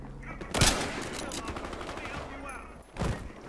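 Battlefield Hardline gunfire, a couple of sharp loud shots with dense crackling game noise between them and a voice speaking over the action.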